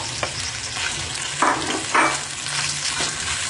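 Chicken frying in a pan with soy sauce, a continuous sizzle broken by a few louder scraping stirs of a spoon.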